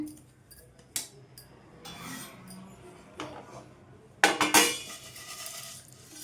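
Roasted sesame seeds are scraped from a pan onto a plate with a spoon, giving scattered metallic clinks and scrapes, with a louder rattling burst near the end, fairly close and quiet.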